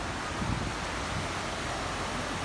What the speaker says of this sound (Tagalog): medyo malakas yung alon ngayon